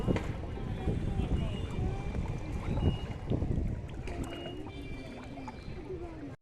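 Boat crossing a river on the way to Raghunathganj park, with steady water wash and wind buffeting the microphone throughout, people talking in the background.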